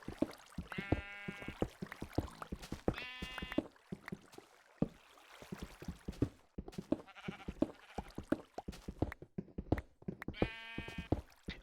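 Sheep in the game Minecraft bleat several times in a pixelated farm setting, distinct nasal baas recurring at intervals over soft clicking and footstep-like game sounds.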